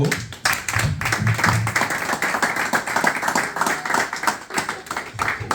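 A small group claps steadily for several seconds, the applause close and lively with uneven, overlapping hand claps.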